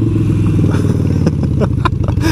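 A Harley Davidson Sportster Iron 883 motorcycle rides over gravel. Its loud, close engine rumbles steadily as crunchy scraping and clattering from the loose surface rise over it.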